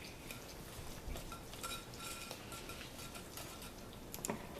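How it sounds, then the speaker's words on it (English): Brownie batter for an ice cream fudge brownie cake is stirred in a bowl with faint repeated clicks and scrapes of a utensil against the bowl, in an irregular rhythm over a quiet background. "Now carefully mix this till you'll see the mix turning into a dark color, not powder no more."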